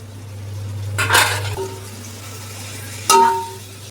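Chicken for Hyderabadi dum biryani being stirred and moved in a pot: two short bursts of scraping and clattering close up, the second sharper, with a low steady hum underneath and no talk.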